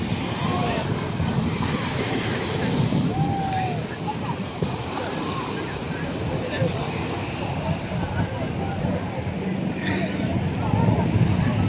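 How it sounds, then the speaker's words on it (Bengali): Surf and wind on the open beach at Cox's Bazar, Bangladesh's largest sea beach, a steady broadband wash of breaking waves with wind buffeting the microphone throughout, faint distant voices mixed in. "কক্সবাজার সমুদ্র সৈকত"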